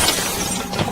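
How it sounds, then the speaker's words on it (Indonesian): Glass shatters in a kitchen in a film, a short dense crash with a second bright burst near the end, close and loud, with no voices. "tiba-tiba terdengar suara pecah di area dapur."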